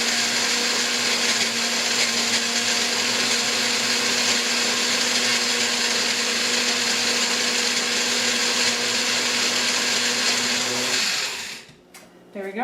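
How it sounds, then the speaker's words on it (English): A coffee grinder grinding wild rice into flour runs as a loud, continuous high whirring motor for about eleven seconds, then winds down and stops, followed by a few small clattering sounds. "You can actually run out a coffee grinder pretty quick making wild rice flour."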